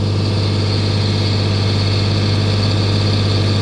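An old Eimco bulldozer engine runs steadily at about half throttle, a loud, close, continuous low rumble with an even mechanical drone and no variation or voices throughout.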